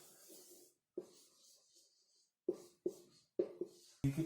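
Pen or marker writing out a maths problem on surds and indices, heard as a series of short, sharp scratching strokes and taps in a quiet room, with pauses between strokes.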